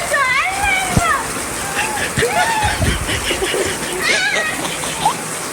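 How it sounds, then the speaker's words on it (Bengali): Rain falls outside as a steady wash of splashing water, with people's voices talking over it at close range throughout. "বৃষ্টি হচ্ছে বাইরে"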